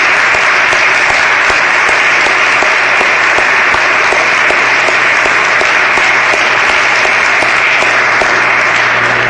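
Loud, dense and unbroken applause from a large crowd at a Charles Young Buffalo Soldiers National Monument event, sustained at an even level for over nine seconds.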